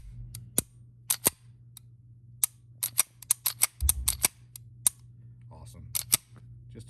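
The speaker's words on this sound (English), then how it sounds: "nice positive engagement of the reset," A custom Browning Hi-Power pistol trigger, fresh from a trigger job, resets with sharp, crisp clicks, single and in quick clusters, close and distinct over a low background hum.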